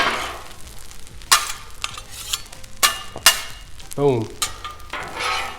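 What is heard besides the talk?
eggs frying on Blackstone griddle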